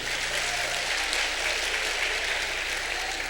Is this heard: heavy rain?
no